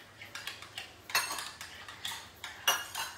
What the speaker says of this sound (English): Whisk it all together